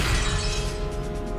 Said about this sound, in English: The sounds of shattering glass could be heard from all parts of the mansion.